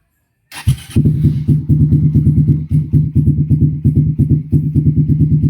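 A fuel-injected Suzuki Satria motorcycle fires up after a brief starter whir and settles into a steady, close, loud idle with a rapid, even pulsing beat.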